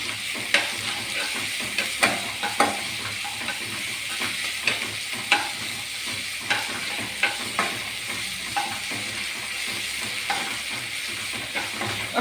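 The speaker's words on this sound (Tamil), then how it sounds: "நல்லா கொஞ்சம் சால்ட் ஆட் பண்ணி நமக்கு வதக்கி விடலாம் நல்லா வதக்கி விடலாம்" Broken wheat upma with salt being sautéed in a pan, a steady sizzle under repeated sharp scrapes and clacks of a spoon stirring, close and fairly loud throughout.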